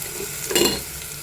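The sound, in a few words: ginger garlic paste frying in spiced oil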